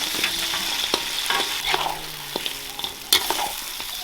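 Goose meat sizzles and crackles steadily in hot oil with pickled chilies in an iron wok, a dense close hiss broken by scattered clicks and scrapes of stirring, with no talking.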